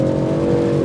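Close, loud engine note from a 2022 BMW M340i sedan pulling away under throttle, a steady low drone with no voices over it.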